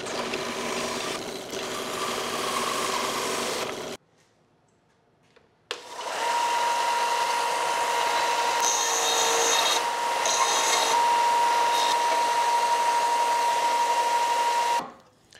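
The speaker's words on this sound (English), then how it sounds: "saw the antlers from the skull plate and sand them down." Deer antlers being sawn from the skull plate and sanded with a power tool: a steady, loud grinding whine for about four seconds, a brief pause, then a longer continuous run of abrasive buzzing.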